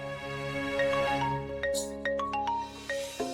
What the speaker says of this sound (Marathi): वाघमारे मॅडमचा मला फोन आला.